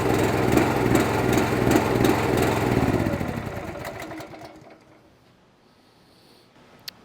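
A Honda GX390 engine roars loud and steady, then sputters and winds down as it runs out of fuel, dying away to near silence over the final seconds.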